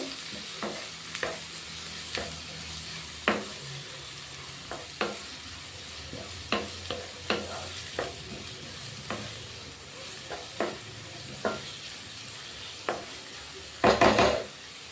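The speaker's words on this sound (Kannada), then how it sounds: "ಈರುಳ್ಳಿ ಸಹ ಚೆನ್ನಾಗಿ ಫ್ರೈ ಆಗಬೇಕು" Onions frying in a pan, with a steady sizzle punctuated by regular spoon strikes and scrapes against the pan roughly every second, ending in a brief flurry of clattering; close, no voices.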